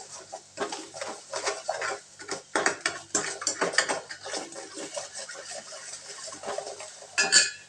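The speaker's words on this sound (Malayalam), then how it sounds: "1 സ്പൂൺ പഞ്ചസാര ഇളക്കി വിടുക." A spoon stirs sugar in a metal pan for caramel tea, a busy run of scraping and clinking against the pan, close and continuous, with no talking.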